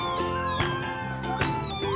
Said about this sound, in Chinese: 在停车场路边，我们经常听到小猫叫